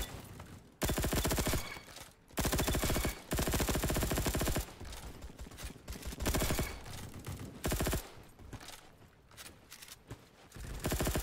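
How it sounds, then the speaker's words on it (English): Gunfire in the video game Bad Business: loud, dense automatic bursts in several long stretches with short gaps, harsh and saturated, with no voices over it. "I'm gonna die because like everyone is shooting me."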